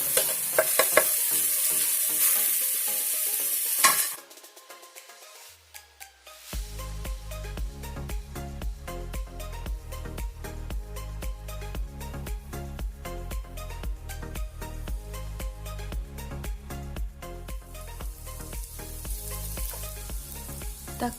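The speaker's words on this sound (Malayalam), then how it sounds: "ഇനി ഇതിലേക്ക് നമുക്ക് 2 തക്കാളി മുറിച്ച് വെച്ചത് ഇട്ട് കൊടുക്കാം." Chopped tomatoes are added to a hot pan for a restaurant-style Kerala fish curry, sizzling loudly for about four seconds before rhythmic background music takes over.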